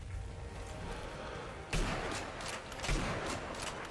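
A sniper rifle fires in the video game Sniper Elite V2, with two sharp, heavy shots a little over a second apart rising above a low, rumbling game background.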